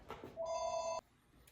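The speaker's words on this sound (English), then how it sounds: "Phone ringing again." A telephone in a workshop gives a single short electronic ring burst, clear and steady for about half a second before cutting off abruptly, with faint background noise around it.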